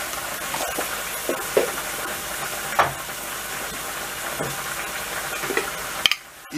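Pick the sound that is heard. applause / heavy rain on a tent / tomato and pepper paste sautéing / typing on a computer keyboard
tomato and pepper paste sautéing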